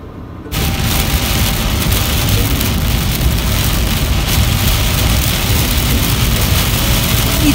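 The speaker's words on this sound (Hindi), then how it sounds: "इतनी ज्यादा बारिश हो रही है कि कुछ भी दिख नहीं रहा है" Heavy monsoon rain pours down steadily on a road trip through Tamhini Ghat near Pune, a dense, continuous loud roar that starts abruptly after a half-second of quiet and holds constant to the end.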